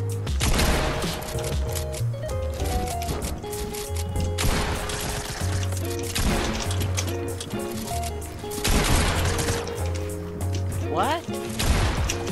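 Shotgun firing in a video game, sharp bursts of shots scattered through the clip amid game music and effects, with a voice speaking briefly.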